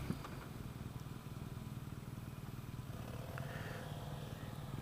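A 2016 BMW R NineT boxer twin fitted with an Akrapovic exhaust idles steadily, its low, even throb pulsing without pause, fairly quiet and close throughout.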